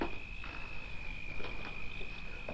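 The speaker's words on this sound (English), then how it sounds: "maybe it was the crickets. Yeah, the crickets." Crickets chirp at night in a thin, continuous high trill, faint and steady with soft background noise and no talk.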